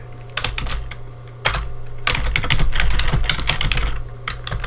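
Typing on a computer keyboard during a React JavaScript coding session: close, rapid clicking of keys in bursts, with a brief pause before a longer, steady run of keystrokes.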